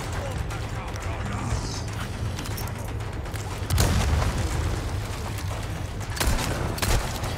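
A grenade explodes in the Resident Evil 4 Separate Ways game, a sudden booming blast amid ongoing game noise with a second impact shortly after, set under someone talking.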